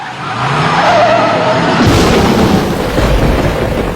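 Tyre screech and car noise effects from a Back to the Future stage musical: a skidding squeal, then a broad loud rumbling roar with a boom-like burst, sustained and close throughout.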